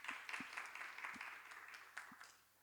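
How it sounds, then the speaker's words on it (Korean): A high school church congregation at a Sunday worship service gives soft, scattered applause that fades out over a couple of seconds, faint and distant. "하나님께 감사의 박수 올려드리겠습니다."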